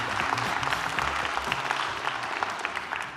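Audience at a talk on art, technology and the climate crisis applauding, a dense, steady patter of many hands clapping at close range that continues for the whole stretch.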